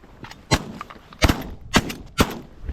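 Shotgun blasts from a duck hunt in a light snowstorm, four loud booming shots spaced unevenly about half a second apart, sharp and nearby over quiet outdoor ambience.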